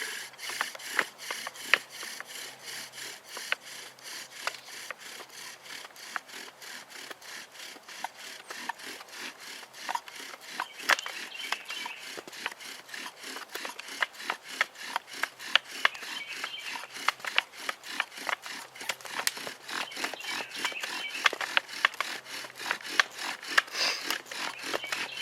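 A wooden bow drill spins back and forth to make fire without a knife, producing a rapid, steady sawing rasp of wood rubbing on wood that continues rhythmically and fairly close throughout.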